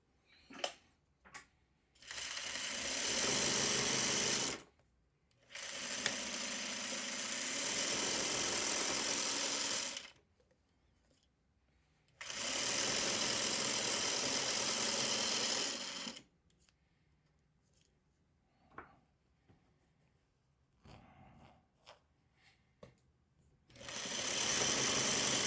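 A sewing machine stitches fabric in long bursts of steady, whirring motor hum, separated by quiet pauses and small handling clicks, with no talk over it.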